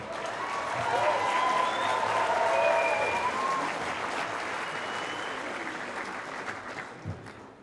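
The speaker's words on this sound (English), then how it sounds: "so we can give a round of applause, please, to Angus Reid." Broad crowd applause at an opening ceremony, swelling early and then gradually tapering over several seconds, with faint voices underneath.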